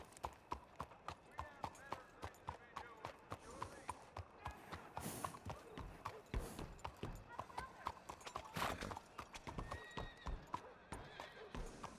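Horse hooves clip-clop in a steady walking rhythm in a Wild West roleplay game, close and distinct, with occasional snorts and a whinny while people talk over it.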